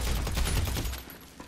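Pistol fire in GTA Online, a rapid close burst of shots in quick succession that cuts off after about a second.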